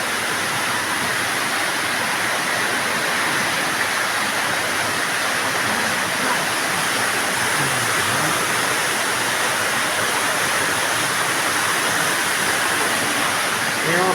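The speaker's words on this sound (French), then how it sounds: "C'est dommage qu'elle soit pas éclairée, la cascade." A waterfall cascade pours as a steady, broadband roar of falling water, continuous and even throughout, with faint low rumbles like a passing engine beneath it.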